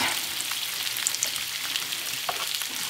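Sausage frying in a pan with butter and olive oil, a loud, close, steady sizzle dotted with small crackles and pops, with no voices.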